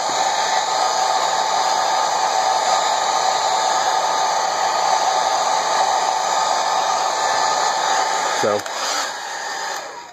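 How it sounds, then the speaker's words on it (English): A hair dryer blows steadily on a watercolor painting. Its loud, constant whir fills the whole span close to the listener. A brief bump and a drop in pitch come near the end. "my hair dryer to dry up the rest"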